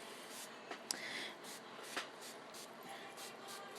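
Soft, steady hissing spray from a spray bottle misting a distressed necklace, with a few faint clicks, quiet and continuous throughout.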